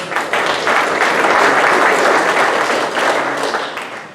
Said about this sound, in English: Give a round of applause for that freshman.